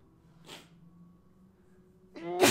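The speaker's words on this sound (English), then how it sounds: "Hold on, I gotta sneeze crazy." A single sharp sneeze bursts out near the end after a quiet pause and a faint earlier breath, loud and close with no speech.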